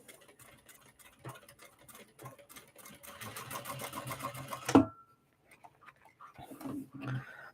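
A sewing machine stitches a clutch wallet in a fast, steady run that builds in intensity, then stops abruptly, followed by quieter clicks and handling noises close by.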